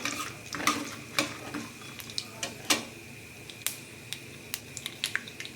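Chopped onion stirred into peanuts frying with mustard seeds in a pan, with a soft sizzle broken by sharp spoon scrapes and clicks against the pan, spaced irregularly and heard up close.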